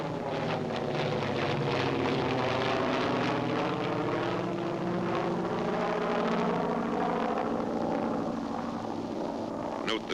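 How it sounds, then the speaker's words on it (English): A World War II PBY flying boat acting as a tow plane takes off towing a CG-4A glider, its propeller engines droning steadily and loudly with heavy wind rush throughout, no voices. "Note the takeoff of the PBY before the glider."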